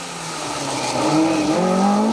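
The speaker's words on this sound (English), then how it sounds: "I can hear lots of revs coming into view now" A Talbot Sunbeam TI rally car on a 2WD special stage of the Malcolm Wilson Rally 2024 approaches with a rising, revving engine note that grows louder over a couple of seconds, heard from a roadside spot.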